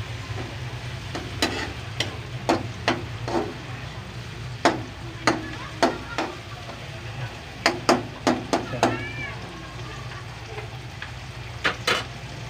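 Tomatoes for squid adobo cook in a pan with a soft steady sizzle, punctuated by a dozen or more sharp metallic taps of a utensil stirring against the pan at an uneven pace, close and clear.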